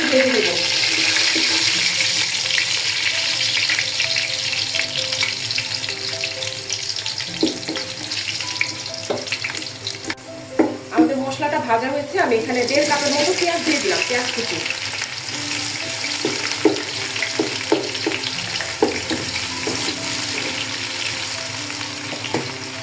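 Whole garam masala, cardamom pods and cinnamon sticks fry in hot oil with a steady, close sizzle, broken midway by a burst of stirring and clattering before the crackle settles again.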